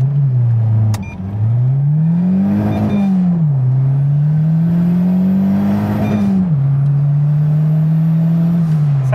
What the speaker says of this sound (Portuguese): Vamos pegar ver se a gente consegue fazer um 0 a 100 aqui na saída